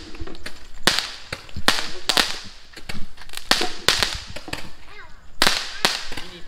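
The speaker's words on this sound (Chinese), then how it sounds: "迷你版的烟花。" Mini fireworks go off outdoors on Chinese New Year's Eve, sharp irregular pops and cracks in quick clusters, loud and close, with short quieter gaps between bursts.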